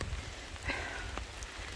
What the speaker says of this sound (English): So it's raining really hard actually.